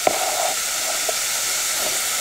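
Tomatoes sizzling in a pan while cooking down for a raw mango kulambu, a steady close hiss of frying with a few faint clinks, no talk.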